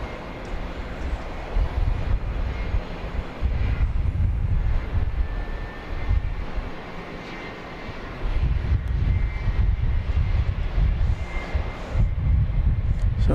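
A propeller airplane's engine drones steadily at Dallas Love Field, loud and sustained with wind buffeting, swelling and easing across the pass.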